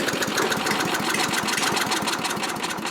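A Honda HRS21 lawn mower engine runs steadily with a carburetor slightly out of adjustment, producing a loud, close, continuous buzzing drone with a fast rhythmic chug and no voices over it.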